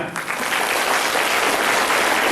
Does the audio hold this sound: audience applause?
yes